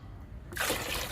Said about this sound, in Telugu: 1 మగ్గు వాటర్ కలుపుతున్నాను